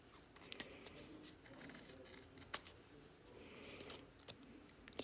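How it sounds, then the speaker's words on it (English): Scissors snipping small bits out of a folded paper envelope to make a snowflake, with faint, quiet, close cuts in an irregular rhythm and soft paper rustling between them. "So we're just going to cut in some little bits"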